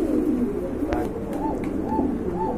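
Pigeons cooing at a pigeon market, several soft repeated coos rising and falling over a constant murmur of crowd noise, with a brief tap partway through.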